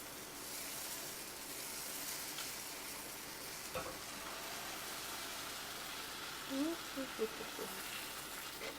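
Dosa batter dropped onto a hot pan gives a steady, soft frying hiss that continues throughout, close but fairly quiet, with a brief clatter and faint voices toward the end.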